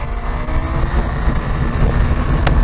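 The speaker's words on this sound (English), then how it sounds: "I seem to be hitting the rev limiter quite quickly." A KTM 890 SMT supermoto engine roars hard at high revs under heavy wind buffeting, running continuously and loud, with a brief sharp burst near the end.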